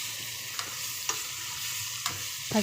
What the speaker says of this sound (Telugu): ఈ ఎండు చేప ముక్కలు అయితే కొంచెం వేగేంత వరకు వేయించుకోవాలి.